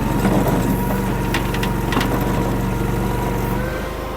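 A Chinese mini skid steer's engine holds a steady mechanical drone at high RPM on concrete and gravel, loud and close, easing slightly in the last moments.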